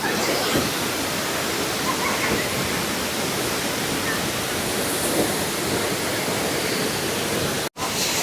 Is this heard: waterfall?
yes